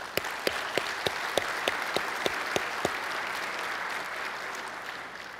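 A conference audience at a public transportation general session applauds in a broad, steady wash, with several loud nearby claps ringing out in a regular rhythm early on before blending into the even crowd sound.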